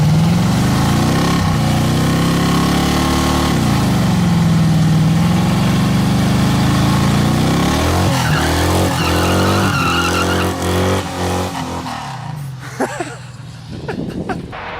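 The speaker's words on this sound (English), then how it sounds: "I'm just gonna do a burnout." A 1996 Chevy Cavalier revs hard through a burnout, its engine roaring loud and close with rising and falling pitch sweeps while tires squeal, easing off toward the end.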